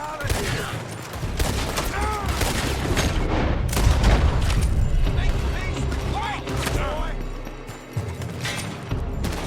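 Gunfire from a building in Red Dead Redemption 2, a dense, continuous fusillade of shots and booms layered with frantic game action and voices across the whole stretch.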